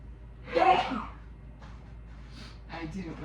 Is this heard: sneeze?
yes